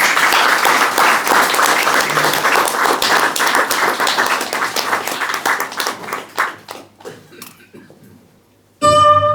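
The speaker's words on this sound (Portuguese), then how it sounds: "é antes de mais uma salva de palmas" Applause from an audience at a Portuguese-language cultural event, dense and loud at first, then thinning into scattered individual claps and fading out near the end before other sound cuts in.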